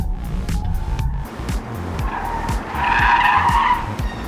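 Car tires squeal and skid loudly over a running engine, the screech swelling midway through a hard turn before easing off.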